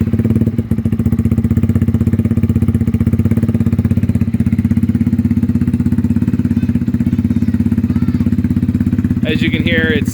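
A 2022 Lifan KP200 motorcycle with a modified exhaust idles loudly and steadily at close range, its low, even engine rumble running throughout, with a brief rev or rattle near the end.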